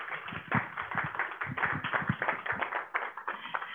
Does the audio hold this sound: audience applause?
yes